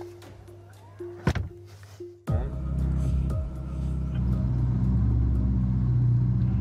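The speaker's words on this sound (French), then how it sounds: "je rentre, j'appuie sur le frein, et là la porte va se refermer toute seule" Tesla Model S Plaid door closing automatically, a deep thunk heard once the car is entered and the brake pressed, followed by a steady low motor hum and cabin rumble.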